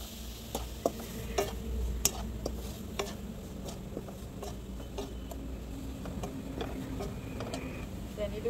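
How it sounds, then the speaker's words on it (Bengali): Grated carrot and sugar are stirred and fried in a pan for kheer, a soft sizzle broken by sharp, irregular spoon clicks against the pan, close and fairly quiet. "এতিয়া মই ধুনীয়াকৈ ভাজি ল'ম গাজৰ আৰু চেনি।"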